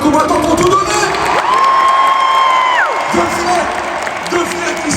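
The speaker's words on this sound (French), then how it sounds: "on peut applaudir une dernière fois les deux combattants qui ont tout donné" A crowd at a DTR Fight combat event in Paris cheers and applauds the two brothers who just fought, a loud, sustained roar with whistles and shouts cutting through, and voices rising over it.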